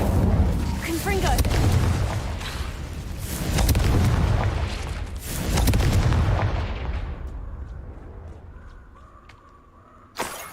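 Spell explosions from Incendio and Confringo in the Hogwarts Legacy video game, heavy rolling booms that swell and fade several times, with game sounds continuing under them and a sharp crack near the end.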